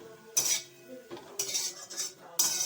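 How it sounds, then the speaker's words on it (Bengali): Spinach greens seasoned with salt and turmeric being stirred in a pan for a Bengali shak bhaja with peanuts, giving three bursts of scraping metal utensil clinks against the pan, close and clear, with no talk. "নাড়াচাড়া করে"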